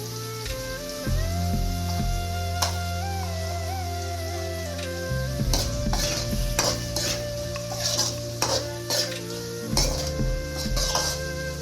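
Onions sautéing with salt in a pan for a spicy chicken gravy fry, a steady sizzle under repeated metal scraping and stirring clinks, with a low background hum throughout.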